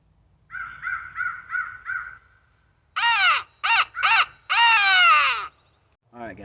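Electronic game caller playing crow calls during an Indiana crow hunt: a run of five short, evenly spaced caws, a pause, then a louder burst of harsh, longer caws, with a faint start of another call at the end.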